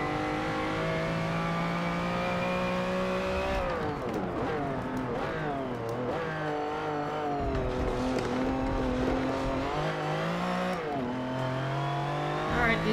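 Race car tires rolling and engine note in the racing video game Forza Motorsport 7, a steady loud drone with rising and falling revs through shifts, continuous throughout with brief tire squeal.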